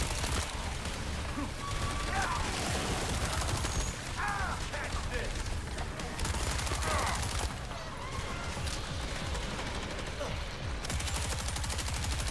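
Dense video game gunfire in sustained rapid volleys, a constant crackle of overlapping shots and bursts mixed with other battle noise and some voices.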